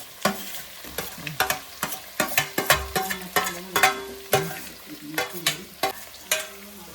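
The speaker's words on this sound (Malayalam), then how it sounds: "നമുക്കിത് നന്നായിട്ട് ഇളക്കാം" Sliced onions frying in a pan for chicken curry while a spoon stirs them, a soft sizzle under a run of close, sharp scraping clinks in an irregular rhythm, with no voices.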